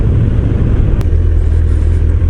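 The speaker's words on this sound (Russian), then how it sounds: "Вот переключение квикшифтингом." Honda CBF1000 litre-class motorcycle under way, a loud close engine rumble with a brief interruption around the quickshifter gear change, continuing steadily afterward without talk.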